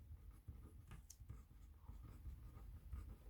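Pen or pencil writing on paper during a Turkish history lesson in a classroom, a steady quiet scratching with short strokes and pauses, close and faint, with no talking.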